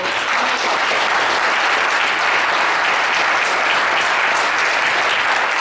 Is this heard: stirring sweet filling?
no